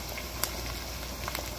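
Onions and potato sizzle and crackle in a hot pan, a short stretch of steady frying with a few sharper pops.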